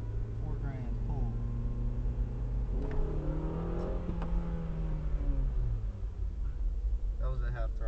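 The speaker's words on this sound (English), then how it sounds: "That was a half throttle." A car engine accelerating at half throttle heard from inside the cabin, a steady rising drone through roughly eight seconds with a gear change midway, moderately loud under an ongoing road hum.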